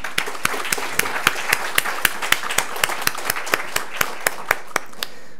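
A crowd claps in a steady, even rhythm, the applause moderately loud and sustained without voices.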